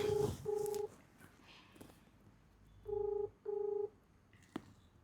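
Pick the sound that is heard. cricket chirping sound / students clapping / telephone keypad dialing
telephone keypad dialing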